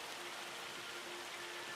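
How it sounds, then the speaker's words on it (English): Hail falls steadily in the Farming Simulator 25 video game, a faint constant patter and hiss heard from inside a shed, with no voices. "It's now hailing."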